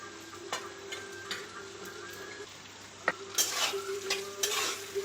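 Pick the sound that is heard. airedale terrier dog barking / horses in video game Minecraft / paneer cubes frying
paneer cubes frying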